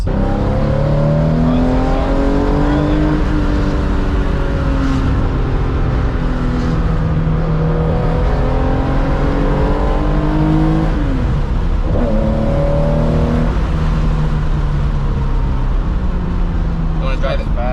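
A Porsche 911 engine with an aftermarket muffler revs and surges repeatedly with a deep, throaty exhaust note, rising and falling in pitch, while people talk over it.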